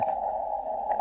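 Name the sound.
steady tone heard on the ham radio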